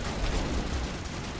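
Dense, continuous gunfire roars in the Mass Effect game, a thick wash of overlapping shots at close range with no breaks.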